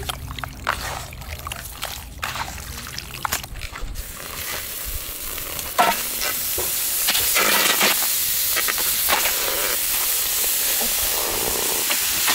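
Pork for homba Bisaya hisses and sizzles loudly in a giant wok over an open fire at a Filipino cookout in Cebu, with scraping and clatter early on giving way to a steady roar of frying.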